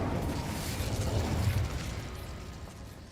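Incendio fire spell cast in Hogwarts Legacy, a steady whooshing, crackling burst of flame with low rumbling that stays loud for about a second and a half before tapering off, with no talking over it.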